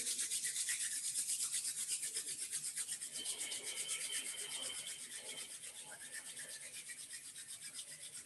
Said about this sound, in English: Rub your palms together, creating a little bit of heat.